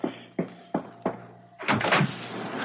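Knocking on the front door of a house in a radio drama, four evenly spaced firm thuds followed by a rattling door opening, close and loud, no talk.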